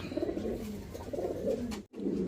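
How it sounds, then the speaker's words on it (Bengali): A female Madrasi golla pigeon coos nearby in a short series of soft, low, throaty coos with a brief gap near the end. "এখানে দেখতে পাচ্ছেন এক পিস মাদ্রাজি গোল্লা মাদি কবুতর"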